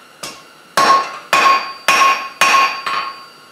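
Hammer blows forging a steel leaf at the anvil: five sharp, ringing metallic strikes at a steady, slightly uneven pace, close and loud, with no talking.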